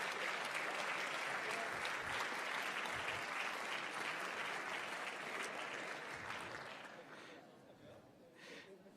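A university academic-year opening ceremony audience claps in sustained, dense applause that swells loudly and then gradually fades toward the end.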